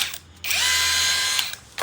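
A model 226 rotary hammer perforator whirs up in a short, close burst of high motor whine lasting about a second before winding down.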